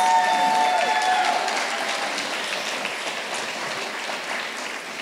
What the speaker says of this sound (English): let's give a round of applause for our direct support professionals